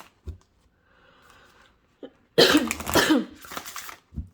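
A burst of harsh, close coughing after a few quiet clicks, followed by a shorter second cough and a faint trailing sound.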